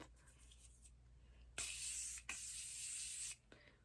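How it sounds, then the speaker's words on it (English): Morphe Continuous Mist Setting Spray hisses out in two close, steady bursts, a short spritz followed by a longer continuous mist, in an otherwise quiet room. "my Morphe Continuous Mist Setting Spray"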